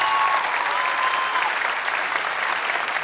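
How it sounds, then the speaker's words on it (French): Loud, dense applause from a crowd, steady and continuous throughout with no voices. "Faut les applaudir, elles ont la classe."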